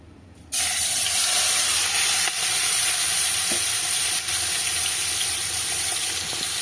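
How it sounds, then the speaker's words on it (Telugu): Chicken sizzles loudly in hot oil for a village-style chicken biryani, a dense steady crackling hiss that starts abruptly and continues without pause, with occasional small clinks. "ఇప్పుడైతే చికెన్ని ఫ్రై చేసుకుంటున్నాను, ఉడికించుకుంటాను."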